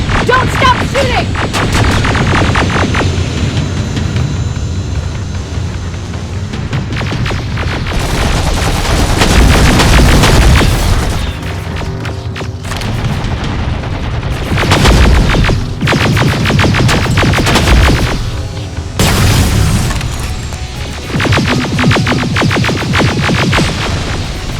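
Dense gunfire and heavy explosions fill a battle in Terminator Resistance, with rapid bursts and booming blasts continuing loudly throughout and brief quieter gaps.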